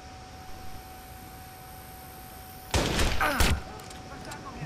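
Sniper gunfire in the Watch Dogs video game: a loud burst of shots around the midpoint with a second sharp crack shortly after, over a steady low game hum.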